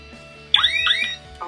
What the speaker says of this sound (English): I'll just do a quick ring of the Concorde 4.